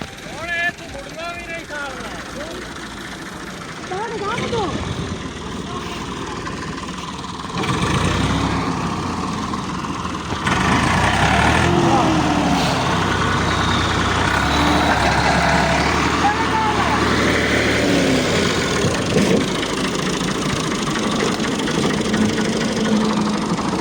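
A heavy diesel tractor engine rumbles and revs nearby at night, shifting pitch as it works, with voices talking over the noise.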